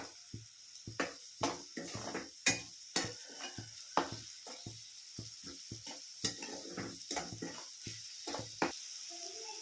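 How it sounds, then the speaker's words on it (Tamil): Onions frying in hot oil in a pan for a pink perch fish fry give a soft sizzle, broken by repeated sharp scrapes and clinks of a spoon stirring at an uneven rhythm. "எண்ணெய் வந்து நல்லா கொதிக்குது பாருங்கள்"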